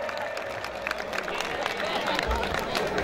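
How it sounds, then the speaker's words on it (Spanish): An audience at a rodeo-style bull event claps and cheers, a dense wash of applause and crowd noise running throughout, with occasional louder thumps near the end. "Que se escuchen esos aplausos, por favor, señoras y señores"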